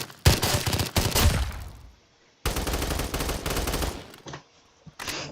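A Roblox gamepass gun fires ranged headshots in a video game, sharp rapid bursts of gunfire broken by short silent gaps, with a few single shots near the end.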